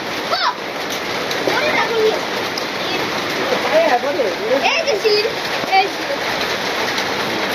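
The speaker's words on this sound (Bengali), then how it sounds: "শিলা বৃষ্টি হইতেছে, শিলার পরিমাণ কম" A light hailstorm with steady rain patters and splashes on surfaces, with scattered hailstones. Voices talk intermittently over the continuous downpour.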